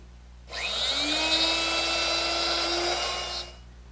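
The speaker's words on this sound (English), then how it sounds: "So I need to route out a little more material to allow for that spring." A wood router whines at high pitch as it cuts a deeper mortise in a jig for a butler's table, spinning up, holding a steady loud scream for about three seconds, then winding down alone.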